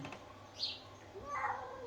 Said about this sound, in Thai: อุ้ยบ่นจังเลยเนาะแมวที่บ่น